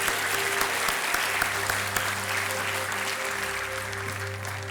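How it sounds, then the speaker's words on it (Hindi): A studio audience on a TV quiz show claps for a contestant, loud continuous applause close by that holds steady throughout and slowly tapers at the end. "तालियां हो जाए इनके लिए।"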